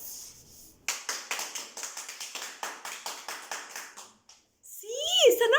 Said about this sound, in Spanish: Sí, están aplaudiendo a alguien.